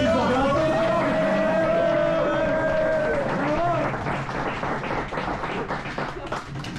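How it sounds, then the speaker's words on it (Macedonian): A live show audience breaks into clapping for a guest after a man's spoken introduction, with a crowd's applause building and then fading slightly over several seconds. "Аплаузи за брато."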